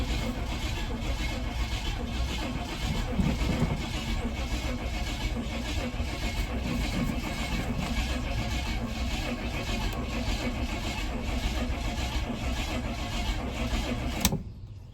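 Project truck engine idling with a steady, rapid mechanical pulse for about fourteen seconds, then abruptly cutting out as it runs out of gas, leaving near quiet.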